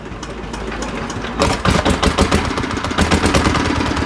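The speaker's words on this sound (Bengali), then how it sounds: "আর ইঞ্জিনটা আমরা এখনই স্টার্ট দেবো।" A second-hand diesel power tiller engine starts up and settles into a loud, rapid, knocking chug, close by and running steadily after a quieter opening.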